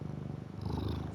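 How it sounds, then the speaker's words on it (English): A male cat purrs steadily and close up, its low rumbling throb running through a short stretch with no talking. "I don't know if you can hear him purring or not"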